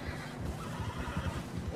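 A horse in the video game Red Dead Redemption 2 neighs briefly amid dense game sound and a speaking voice, a short, moderately loud whinny over a busy background.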